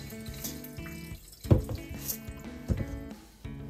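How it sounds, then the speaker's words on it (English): Water from a tap poured over rice for rinsing in a Japanese donabe clay pot, a running stream with splashing bursts and sloshing as the grains are stirred. "Add water and stir gently."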